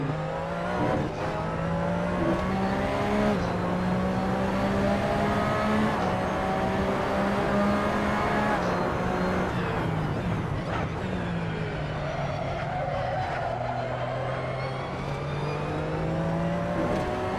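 A Porsche 911 RSR race car in Assetto Corsa drives alone with a loud, close engine note that rises and falls through shifts, alongside a steady whine.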